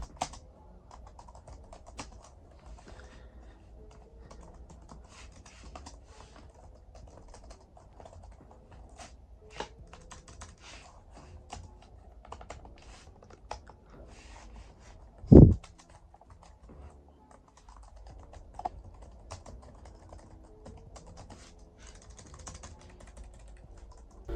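Soft, steady typing on a ThinkPad T480 laptop keyboard clatters on for a long stretch, light irregular keystrokes with one sharper thump partway through.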